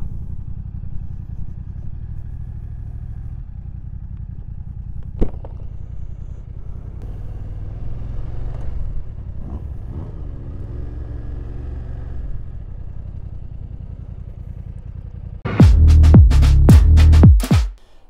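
A 2020 BMW F900XR motorcycle being ridden, a steady low engine drone with wind rumble and a few faint clicks, then a much louder, close burst of revving and clatter near the end.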